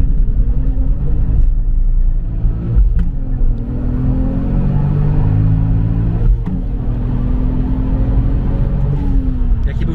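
A turbocharged Lexus IS200 drives off for a 0-100 acceleration run, its engine a steady loud rumble with a few gear-change dips, heard from inside over continuous road noise.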